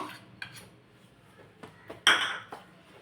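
Eggless cake batter of sunflower oil and curd being mixed in a bowl, with soft intermittent scrapes and one louder clinking knock of the utensil against the bowl, close and alone with no talking.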